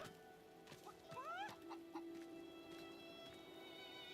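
Chickens cluck in the fantasy role-playing game Divinity: Original Sin 2, with a few short, faint clucks and rising squawks scattered over a quiet game ambience, and no one talking.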